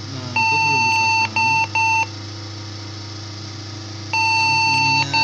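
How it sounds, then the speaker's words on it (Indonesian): PC motherboard POST beep code of one long and two short tones, signalling RAM not installed: a long beep, then two short beeps, then a pause and a long beep again. The tones are loud and clear over a steady low hum, with no talk. "1 kali panjang, 2 kali pendek itu RAM-nya belum dipasang."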